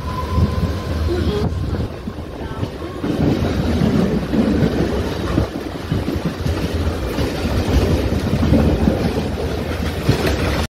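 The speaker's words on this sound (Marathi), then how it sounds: "अंधेरी कार शेडची सायमिंग रेक्सची एक्सलरेशन बघा" A Mumbai suburban local train, a Siemens rake from the Andheri car shed, accelerates through heavy rain, with a loud, steady rumble and rhythmic wheel clatter building over several seconds.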